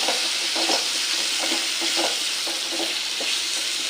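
Ivy gourd thokku with tomato and turmeric fries in a pan, a constant loud sizzle with rhythmic scraping strokes of a stirring spoon throughout.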